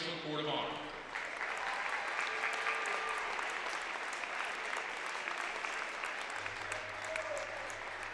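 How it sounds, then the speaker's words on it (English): A crowd applauds steadily at a high school boys basketball game honoring Court of Honor inductees, sustained clapping that fills the gym after an announcer's voice at the start. "one more round of applause for our Raceland Court of Honor inductees and their families"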